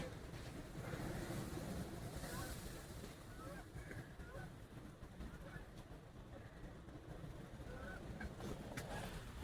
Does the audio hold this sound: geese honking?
yes